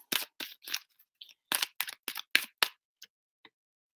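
Tarot cards are shuffled during a reading: a close, irregular series of sharp papery flicks and slaps in quick bursts, thinning out at the end. No one speaks.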